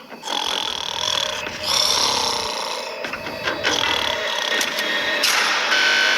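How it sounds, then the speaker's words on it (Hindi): A man sleeping in a prison cell snores loudly and steadily, each raspy, rattling breath running into the next with almost no pause. "तुम्हारे खर्राटों ने सोने नहीं दिया।"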